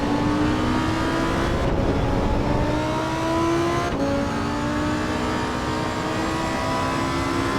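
A Lamborghini Huracan STO engine in a video game revving hard and climbing through the gears, loud and continuous, with brief dips at each shift.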